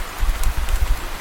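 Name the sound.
heavy rain falling, cartoon sound effect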